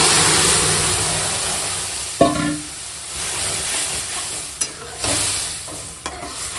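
Onions frying in a pan with turmeric and boiled lentils stirred in, a steady sizzle broken by sharp scraping stirs and clatters, close and alone.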